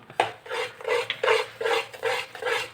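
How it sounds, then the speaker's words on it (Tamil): Almond halwa cooked with ghee, stirred in a pan in about six rhythmic scraping strokes, each a close, raspy rub of spoon against metal, with no talk. "பாத்திரத்துலேருந்து நல்லா இந்த மாதிரி கிளறும் போது ஒட்டாமல் வருது"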